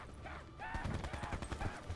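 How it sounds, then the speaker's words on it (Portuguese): A burst of rapid gunfire crackles in Call of Duty Blackout's infection mode, several quick shots in a ragged rhythm at moderate distance. "Tô ouvindo o um tiro dele."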